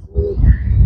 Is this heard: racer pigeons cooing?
yes